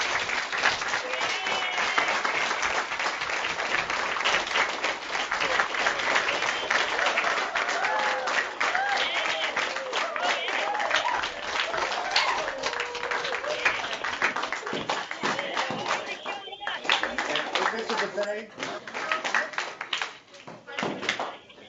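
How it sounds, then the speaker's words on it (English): Schools join over a video call to give a warm round of applause, a dense, compressed clatter of clapping from many unmuted microphones lasting about twenty seconds, thinning and breaking up toward the end. "go ahead and unmute your mics and give them a warm round of applause"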